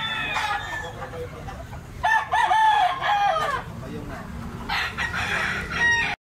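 Pumpkin Sweater Kelso roosters crow in several loud, close calls with clucking between them, and a voice speaks in the background.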